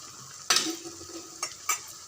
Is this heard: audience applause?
no